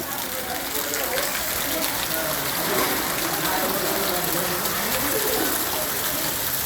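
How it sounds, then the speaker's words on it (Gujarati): Heavy, nonstop monsoon downpour in Wankaner, a dense steady roar of rain and running water that holds loud and even from start to finish. "વરસાદ ખૂબ જ આવી રહ્યો છે એક ધારો નોન સ્ટોપ વરસાદ આવી રહ્યો છે"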